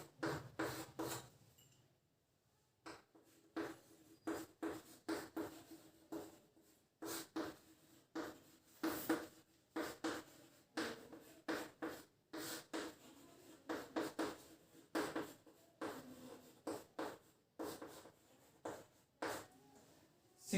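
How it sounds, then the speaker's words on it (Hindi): Chalk or marker strokes on a classroom board during a teaching lesson, a long run of short scratchy bursts in uneven rhythm with brief pauses, close and fairly clear, no talking. "यहाँ मैं लिखता हूँ नंबर 1"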